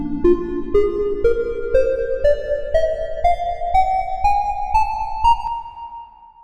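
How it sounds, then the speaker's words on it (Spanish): Synthesized tones climbing through the harmonic series, one clear note after another at an even pulse, each rising higher in pitch, with the last notes gliding and fading out, and no voices. "La serie armónica suena así."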